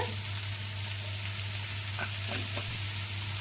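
Onions hitting a hot frying pan for bitter gourd pulusu, a steady frying sizzle with a few stirring scrapes near the end, close and continuous under a low hum, no speech.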